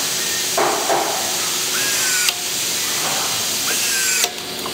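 Power drill driving screws into a folding stadium seat, a whining motor that runs in short bursts with rising pitch and sharp stops, loud and close over a hissy background.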